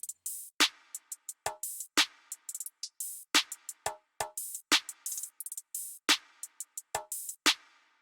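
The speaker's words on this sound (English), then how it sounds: "After that, I added an open hat and a perk just to fill in the rest of the space." An open hi-hat and a crisp percussion hit fill the gaps in a looping hyperpop trap beat, punchy kicks landing at regular intervals without any talking.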